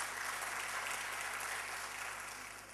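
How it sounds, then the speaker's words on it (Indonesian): A church congregation breaks into dense, sustained applause, a broad even wash of many hands clapping together that tapers slightly toward the end. "Tepuk tangan bagi Allah kita."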